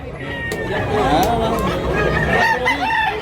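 Roosters crow loudly at a busy chicken market in Tabunok, Talisay, Cebu, one long crow rising over clucking fowl and the chatter of sellers and buyers talking nearby.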